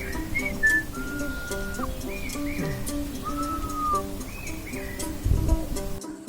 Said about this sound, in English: people who would travel from one hill to another hillock would call each other through whistling